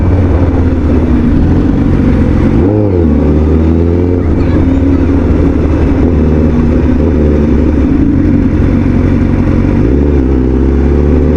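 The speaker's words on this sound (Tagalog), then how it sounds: "Parang merong motor sa likod ko na big bike." A big-bike motorcycle engine runs loud and close behind, a steady throbbing idle broken by two short revs, one early and one near the end, with no clear talk over it.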